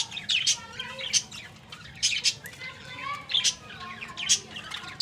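Small birds in a quail nest enclosure chirp and tweet in quick, high bursts, several overlapping calls repeating through the clip with light rustling between them, fairly close.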